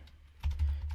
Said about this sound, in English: I'm going to type in nano ripple.cfg.dpkg